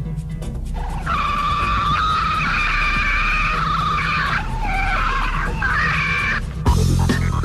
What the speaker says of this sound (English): Police headquarters was able to record what is said to be the call of a Sasquatch.